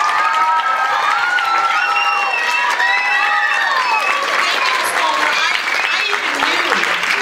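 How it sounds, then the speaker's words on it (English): Audience applause at an upper school instrumental concert, a sustained, dense clapping from a large crowd filling the hall, loud and steady for several seconds with some cheering mixed in. "Let's give Miss Mulder another round of applause, please."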